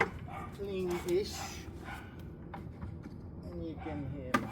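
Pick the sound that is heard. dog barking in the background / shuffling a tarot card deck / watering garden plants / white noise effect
dog barking in the background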